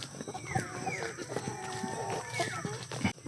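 Chickens on a farm with two trapped roosters, giving clucks and short calls against steady background farm noise.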